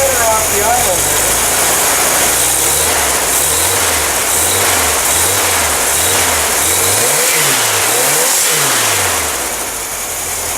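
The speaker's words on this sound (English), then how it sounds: "Sounds pretty good. It might be a viable engine." A warmed-up car engine runs steadily, rising and falling in a series of rhythmic revs over a low idle hum, loud and close with no talking.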